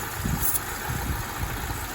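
A Hyundai Accent engine idles steadily at close range, a low, even rumble with faint vibration and no voices, heard during a check of a faulty part affecting the idle.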